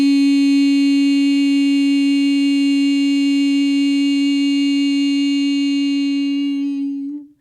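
A single sustained tone on the note E, pure and steady with bright overtones, rings alone at an even loudness for about seven seconds before fading out quickly at the end.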